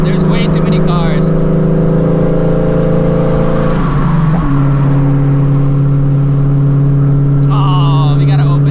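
A 900hp Shelby GT350 pulls hard through second gear, its loud engine tone holding steady then dipping and climbing again as it accelerates, close and dominant, with brief voices and background traffic noise around it.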